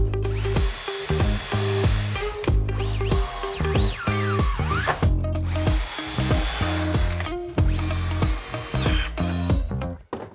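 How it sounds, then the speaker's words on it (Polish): A power drill bores into wooden garden table boards, loud and close, its motor whining steadily in long runs with brief dips in speed and short pauses between holes. "Nawiercamy."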